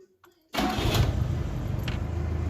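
After a brief near-silence, a Polski Fiat 125p engine cranks and catches with a sudden roar, then settles into a steady, loud, close idle after an oil change and new engine mounts.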